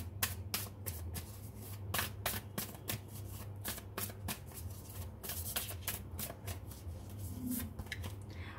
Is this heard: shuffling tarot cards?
yes